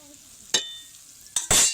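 Drops of boondi batter hitting hot oil in a pan, short bursts of bright hissing sizzle, three quick splashes in under two seconds against a quiet background.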